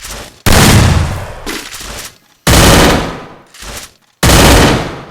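Loud, close bursts of automatic gunfire from a shooting video game's clash squad match, three long rattling volleys separated by brief silences, with shotgun and MP5 weapons in play.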